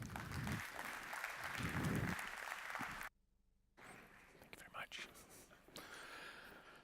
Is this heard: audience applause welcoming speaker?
yes